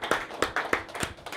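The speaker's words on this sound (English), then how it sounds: "can we just clap for your parents" Clapping from a small audience at a live talk event: a few loose, uneven bursts of handclaps, fairly close and not very loud, over about a second and a half.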